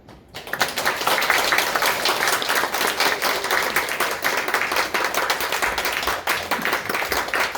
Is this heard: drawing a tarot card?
no